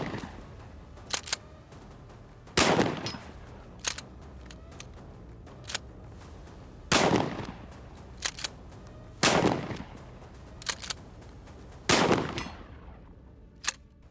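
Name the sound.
pump-action shotgun firing slugs at 100 yards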